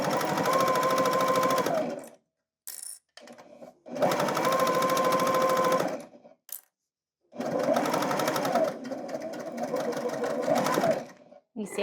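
A sewing machine stitches pillow wedges for a sprocket pillow, running in three loud close bursts separated by short pauses, with a quick back stitch and a final run straight off the fabric.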